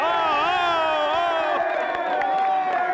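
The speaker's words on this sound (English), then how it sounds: "Round of applause for this guy, right?" A crowd at a high school football game cheers and shouts for a quarterback, loud sustained voices with whoops and scattered claps blending into a continuous roar close by.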